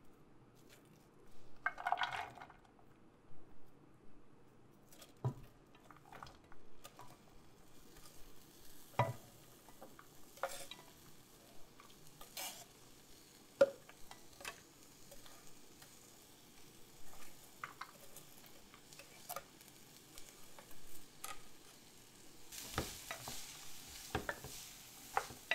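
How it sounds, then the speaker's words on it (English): Raw onions stir-fry in a pan over low to medium heat, a quiet steady sizzle broken by frequent soft scrapes and taps of stirring, close up with no talking. "We'll need to stir fry this for about 20 minutes on a low to medium heat."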